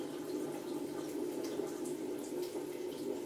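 A steady stream of water runs from a tap, a constant hiss with a faint low hum, quiet and unbroken.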